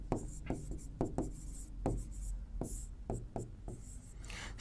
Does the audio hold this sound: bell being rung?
no